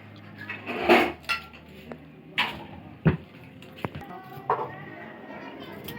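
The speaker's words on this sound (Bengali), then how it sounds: "ফুলকপি কাটছি তো।" A knife cutting a cauliflower in a home kitchen, scattered hard knocks and chops with light clinks of dishes, close and moderately loud, separated by short pauses.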